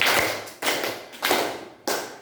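Students in a classroom perform a triangle clapping pattern together, four distinct bursts of group hand claps spaced about half a second apart, crisp and close.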